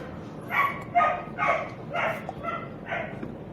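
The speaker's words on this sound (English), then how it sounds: "god damn these dogs." Several dogs barking in a repeated series of about six loud, evenly spaced barks, fairly close, with no talk over them.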